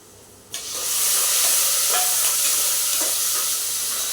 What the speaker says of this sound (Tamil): இப்போ வெங்காயம் நல்லா வணங்கிட்டு இருக்குது.